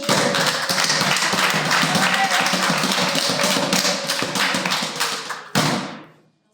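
Worshippers at a church service clap in a dense, steady burst of applause that fills the room, then cuts off abruptly near the end, followed by a brief last flurry that fades.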